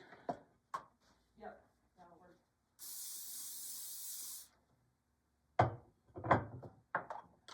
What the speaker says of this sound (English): we're going to just spray that with some spray